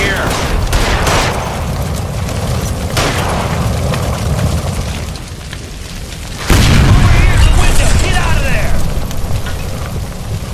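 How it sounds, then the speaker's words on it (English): A gas line blows up in the L.A. Noire Remastered game, a loud, close boom that bursts out after a stretch of urgent shouting and gunfire and then leaves a sustained rumble behind it. "Shoot the gas line, Cole, we're out of here!"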